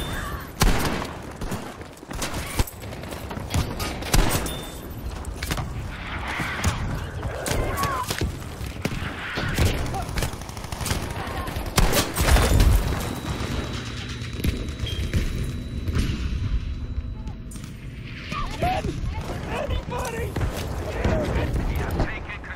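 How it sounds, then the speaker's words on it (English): Artillery barrage in the Battlefield 5 video game on Wake Island, with scattered heavy booms and crackling impacts amid continuous battle noise, while voices speak over parts of it. "Requesting an artillery barrage on this location."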